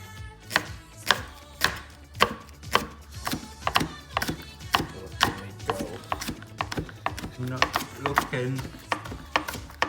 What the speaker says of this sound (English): And just chop up some spring onions, springers.